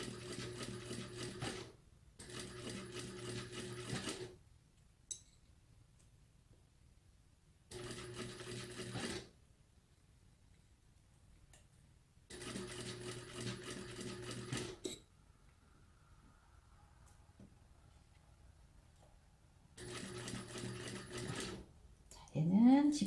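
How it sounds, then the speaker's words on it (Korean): A sewing machine stitches a zipper pouch in several bursts of rapid mechanical whirring, each a few seconds long and separated by quiet pauses, heard up close. "봉제를 이렇게 해주시면 됩니다."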